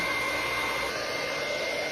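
An iTeraCare therapy device blows warm air with a steady, hair-dryer-like whoosh and a thin high whine, constant and close, without any voices.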